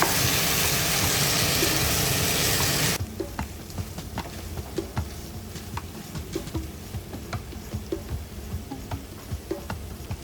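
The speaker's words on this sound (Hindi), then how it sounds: "इसको पकाएंगे मैक्सिमम 5 से 7 मिनट हल्की फ्लेम पे।" Chicken frying in a pan over a low flame gives a loud broad sizzle for about three seconds, then settles into a softer steady crackle and popping with no talking.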